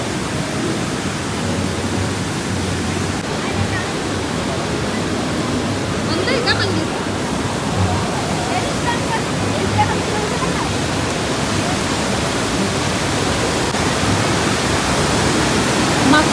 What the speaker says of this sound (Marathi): पाणी